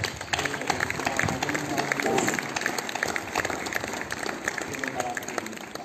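An audience claps throughout a book presentation in Gessopalena, producing a continuous, fairly loud patter with voices mixed in underneath.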